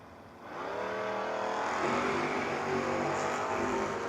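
Maroon Chevy drag race cars launching and racing at a no-box 660 shootout, a loud engine roar rising sharply after a brief quieter start and holding at full power as the cars run.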